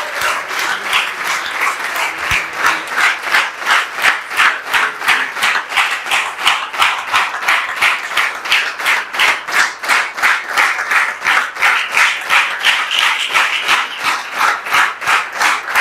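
A church congregation claps in unison for Jesus during a Sunday service, a loud, steady, rhythmic beat of many hands that carries on without pause, with a few faint cheers mixed in.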